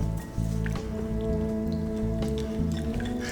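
Water trickling and dripping into a thick rice flour batter in a mixing bowl, soft wet drips and squishy splashes running steadily for a few seconds over a faint background hum.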